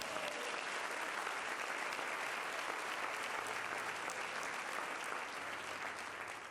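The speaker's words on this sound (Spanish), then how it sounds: "¿Cuántos pueden aplaudir al Señor en esta mañana?" A church congregation applauds in steady, dense clapping that fills the room, continuous and even throughout with no pauses.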